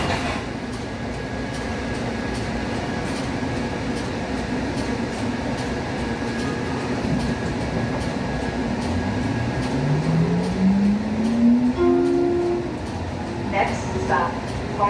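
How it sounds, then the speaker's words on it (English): An HBLR light rail train bound for Hoboken Terminal rumbles steadily from inside the car, with a rising motor whine as it accelerates and an automated announcement voice speaking over the noise. "This is the train to Hoboken Terminal."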